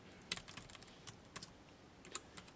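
Key presses on a computer keyboard, a few sparse soft clicks in small clusters, close but faint, alone without speech.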